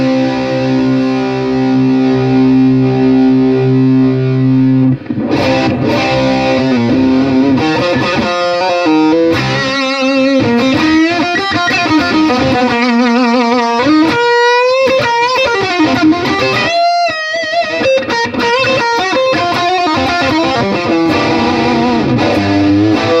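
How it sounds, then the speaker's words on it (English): Electric guitar played through a Nobels DT-1 distortion pedal at maximum drive in a loud room, thick sustained chords and bending notes with heavy fuzz, played alone for over twenty seconds with brief gaps. "This is maximum distortion."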